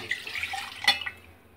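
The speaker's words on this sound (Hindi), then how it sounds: "उसमें अपना मिल्क डालेंगे" Milk pours into a blender jar in a brief, soft liquid trickle with a small splash partway through, close by and without any voices.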